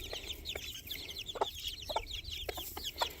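Free-range baby chickens outdoors, perched in a tree, give soft repeated clucks and peeps over a chirpy background, short calls recurring every half second or so at moderate distance.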